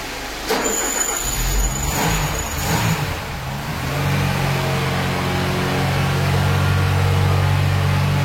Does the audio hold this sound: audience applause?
no